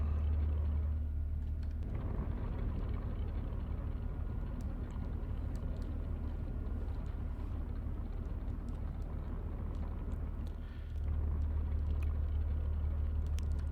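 Engine rumble of a vehicle being driven and turned around in the mining game Hydroneer, a steady low drone held at an even level throughout with a brief dip near the end.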